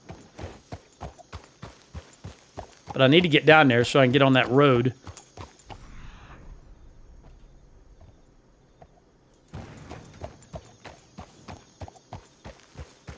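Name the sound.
horse hoof beats in video game Red Dead Redemption 2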